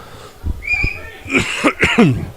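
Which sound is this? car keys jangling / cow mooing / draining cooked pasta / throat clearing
throat clearing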